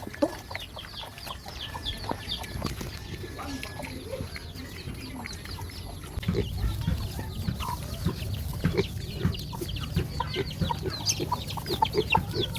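Many chickens cluck and chatter continuously nearby, a busy overlapping flock with faint voices underneath.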